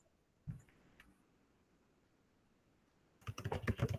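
Rapid computer keyboard typing of Python code bursts in near the end after a quiet stretch with a couple of isolated clicks, a dense run of close, crisp keystrokes.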